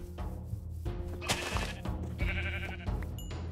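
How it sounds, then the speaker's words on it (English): Sheep in modded Minecraft bleating, several short bleats in quick succession, fairly close with no talk. "Need one more sheep anywhere."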